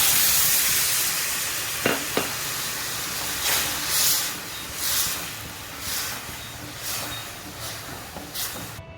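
Ridge gourd chutney simmers in a pan after a cup of water goes in, giving a close steady hiss with repeated soft bubbling surges and a couple of sharp clicks early on.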